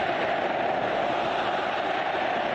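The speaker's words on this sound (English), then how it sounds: "Doesn't take much for the crowd to get going again, as you can hear" A football stadium crowd at a Colombia versus Paraguay match roars with a steady, unbroken wash of cheering. It holds at an even level throughout with no individual voices standing out.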